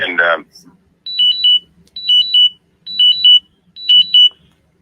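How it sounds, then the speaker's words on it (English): An electronic alarm goes off in four repeated bursts of high, two-tone beeping, each about half a second long and evenly spaced, after a brief voice at the start. "Sorry, my alarms are going off."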